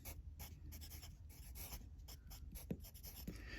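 A pen or marker writes out an algebra equation for a system of equations, making close, quiet, continuous scratching strokes with short pauses and no talk.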